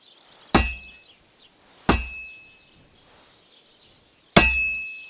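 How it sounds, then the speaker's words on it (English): A hammer strikes a blade at a forge in Kingdom Come: Deliverance 2 with three loud, ringing metallic clangs at uneven intervals. Each clang decays slowly, with quiet in between. "Now take the hammer and try hitting it a few times."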